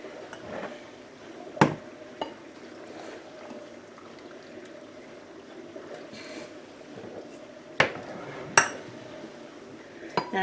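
Glass jars clinking as they are filled with refrigerator pickles in a home kitchen, a few sharp, close chinks scattered among softer handling sounds and quiet room noise.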